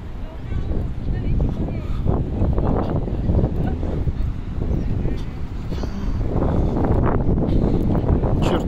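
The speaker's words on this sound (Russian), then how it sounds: "Чертовски сильный ветер сегодня." Strong gusting wind buffets the microphone during an outdoor walk near a Vancouver student campus, a constant loud roar lasting several seconds, with a voice under it.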